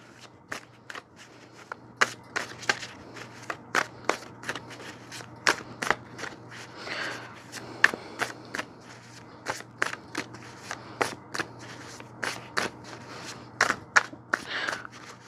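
Tarot cards being shuffled by hand, a run of crisp riffling snaps and soft slides at an uneven pace, close and clear over a low steady hum.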